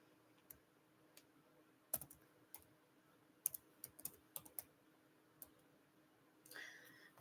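Typing on a computer keyboard: faint, sparse key clicks scattered irregularly, with a small cluster in the middle, over a quiet room hum and no speech.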